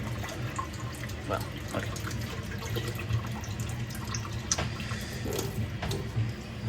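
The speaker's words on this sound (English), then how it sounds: "Let's get this zucchini washed." Tap water runs steadily into a kitchen sink while a zucchini is washed under it during meal-kit dinner prep, a continuous close splashing with people talking over it.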